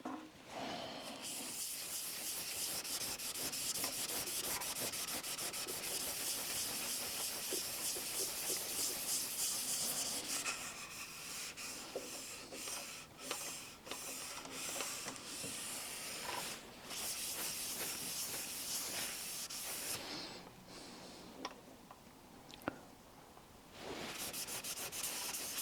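Danish oil being rubbed into wood sanded to 400 grit, a long run of close, steady cloth-on-wood rubbing strokes with a few brief pauses and faint handling clicks.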